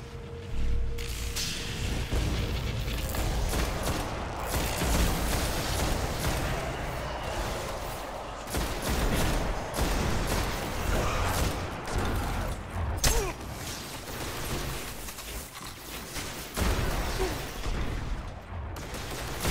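Saterienne Rapier scout rifle gameplay in Destiny: repeated sharp rifle shots crack out at an irregular pace over a dense, busy backdrop of game effects, mechanical clicks and ambient noise.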